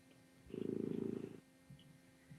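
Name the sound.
cat purring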